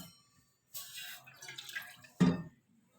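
A cup of water is poured into a pan set on a lit stove, a short splashing pour followed by a louder final splash, close and clear with no talking.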